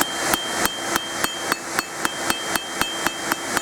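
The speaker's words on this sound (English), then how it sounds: "Let's get some of those hammer marks out while it's still hot enough." A blacksmith hammers a hot metal bracelet, striking in a steady even rhythm of about fourteen loud, ringing metallic blows, close up with no talking.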